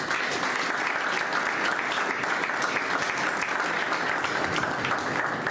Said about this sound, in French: je vous invite à apprécier les intervenants à travers vos applaudissements